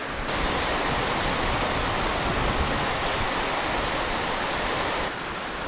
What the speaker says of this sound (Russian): Штормит капитально.